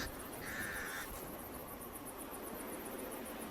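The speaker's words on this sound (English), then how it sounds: "The pied crows sound the alarm again." A single short, faint pied crow alarm call rings out near the start over a quiet, hissing outdoor background.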